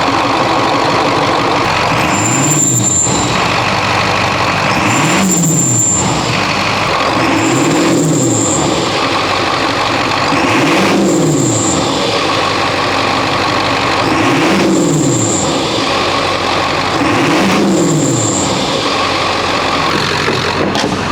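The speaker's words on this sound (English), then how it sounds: "we're going to see the sound difference that it makes with this cold air intake on there" A Ford 7.3L Powerstroke diesel truck with a homemade cold air intake revs six times in a steady rhythm. Each deep rumble swells and falls back, topped by a high turbo whine, heard loud and close with no talk.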